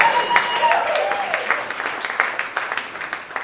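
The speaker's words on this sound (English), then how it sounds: "You can applaud now." Audience applause at a comedy show, a steady crowd patter of clapping that gradually thins out, with faint voices beneath.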